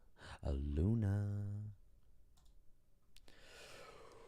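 A person gives a long, voiced yawn that rises and then sinks over about a second, close to the microphone, followed by quiet room noise and light clicking.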